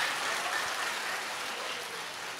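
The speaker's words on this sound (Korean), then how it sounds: "박수 한번 쳐드려." Church congregation applause at a revival prayer meeting, a brief, fairly soft spread of many hands clapping together without any talk over it.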